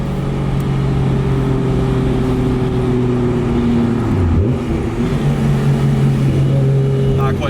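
A Nissan Skyline R34 GT-R revving through gear changes from inside the cabin, a loud engine drone that drops and climbs again between shifts, with a driver talking over it.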